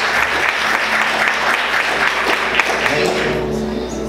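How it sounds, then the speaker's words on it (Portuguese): A church congregation applauds together in a dense, steady wash of clapping that fades slightly toward the end, with a low hum and some voices underneath. "Você consegue aplaudir Jesus com bastante alegria?"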